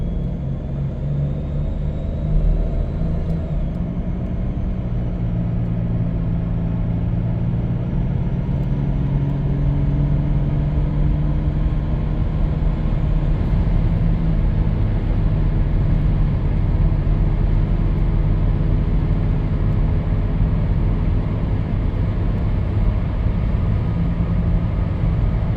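A 1997 Dodge Caravan LE driving with a worn wheel bearing, a continuous low droning rumble and hum from the road that holds steady for the whole stretch, loud and close with no talk.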